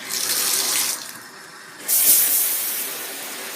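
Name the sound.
water running from bathtub tap onto flashlight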